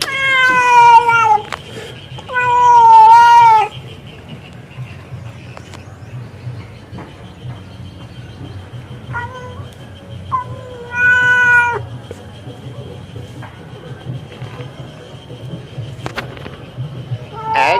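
A neighbourhood cat near a house meows loudly and repeatedly in drawn-out, wailing calls, in bursts at the start and again around the middle and end, with quieter gaps and faint background noise between.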